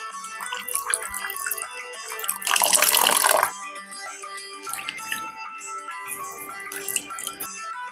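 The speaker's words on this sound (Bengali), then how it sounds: "আমি জল দিয়ে 2 থেকে 3 বার ছানাটাকে ধুয়ে নেব।" Water splashes and runs over fresh chhana, cottage cheese being rinsed for a vegetarian kofta curry, with a loud rushing burst in the middle and softer trickling and handling sounds before and after.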